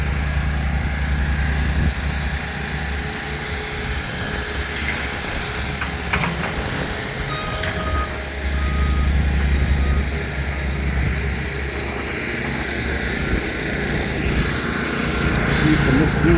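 A Honda generator on a construction site runs with a steady low engine drone, mixed with other machinery rumble, and the loudness shifts slightly over time.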